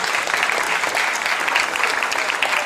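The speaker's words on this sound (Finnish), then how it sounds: "annetaan aplodit" Crowd applauding a contestant at a Finnish twang and twist pageant, dense, steady clapping throughout at close range.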